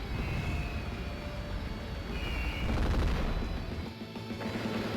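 Artillery bombardment in the video game Advance Wars: Days of Ruin, a dense rumbling barrage of booms that swells near the middle and then drops to a lower, quieter rumble.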